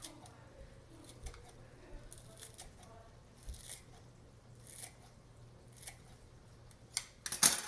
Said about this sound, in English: I just bunch it up in my hands and with a scissor snip it like this